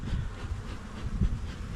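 Honey bees from a newly installed nucleus colony buzz in a low, continuous drone, fairly close, with a few bees passing nearer and louder.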